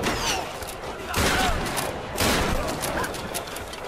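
Gunfire from a shotgun battle in the Tomb Raider video game, loud blasts and bursts repeating through the scene amid dense noise, with a voice briefly mixed in.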